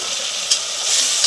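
Steady hissing sizzle of onion and tomato frying in a pan for masale bhat, bright and close, with a couple of small pops and no voices.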